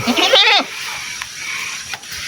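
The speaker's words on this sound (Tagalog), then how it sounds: "Yung kambing" A single loud goat bleat with a wavering, quavering tone, followed by quiet background noise and a couple of faint clicks.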